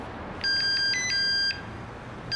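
Phone ringing in the 2006 movie The Devil Wears Prada: a loud electronic ringtone with two bright trilling bursts over about a second, then a fresh ring starting at the end, over faint background hum.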